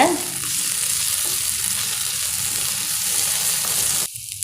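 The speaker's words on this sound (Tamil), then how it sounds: "நாம் இஞ்சி பூண்டு விழுதை சேர்த்துடலாம் நல்லா வதக்கிக்கோங்க" Onions sautéing with ginger garlic paste in a pan for vada curry, a steady close sizzle and frying hiss throughout, cutting off abruptly near the end.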